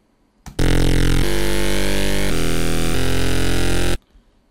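A loud, dense stack of sustained synth chords from Xfer Serum, evenly compressed, shifting through three chord changes before cutting off abruptly.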